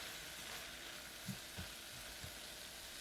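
Julienned carrots stir-fried with a pinch of salt and onion give a steady, fairly faint sizzle with a few soft scrapes of the stirring utensil, no talk.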